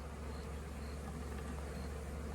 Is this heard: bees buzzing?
yes